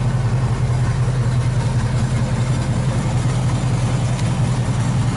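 A 1985 GMC 3/4 ton High Sierra Camper Special pickup idles with a steady, loud, low rumble that holds even throughout, recorded close with no voices.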